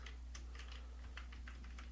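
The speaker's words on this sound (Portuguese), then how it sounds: "você vai clicar no seu teclado aí, a tecla Windows R" Keys on a computer keyboard are tapped in a quick irregular run, a dozen or so close, soft clicks over a faint steady hum, as the Windows+R shortcut is pressed.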